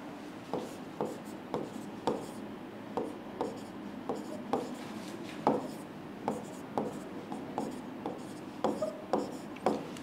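Chemical formulas being written on a board give a quiet run of short, regular taps and scratches, each stroke a distinct tick with brief pauses between.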